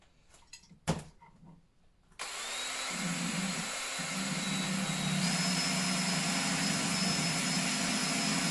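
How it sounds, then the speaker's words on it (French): A power sander starts after a few faint knocks and then runs as a loud, steady whir that holds evenly to the end, with no voices over it. "Là, t'es en train de poncer."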